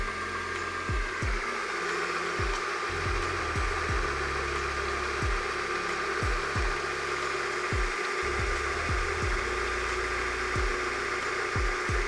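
A small peristaltic pump runs from a 12 volt adapter with a constant whirring hum, while low thumps and pulses repeat in an irregular rhythm close by.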